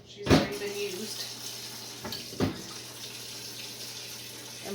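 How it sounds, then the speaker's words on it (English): A kitchen pot is handled with a sharp metallic clank, then tap water runs into it in a steady stream, with a second clunk midway and a faint, low hiss of flowing water throughout. "Let me get some water. I'm just going to fill up this"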